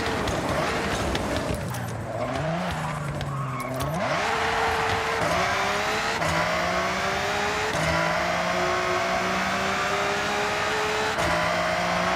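A race car's engine revs and climbs through the gears in the Forza Horizon driving game, a loud, close, continuous roar rising in pitch, dropping at each shift and climbing again, with tire noise mixed in.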